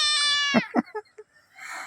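A kitten meows close by: one long, drawn-out cry followed by a few short, quieter mews, then a soft rustle.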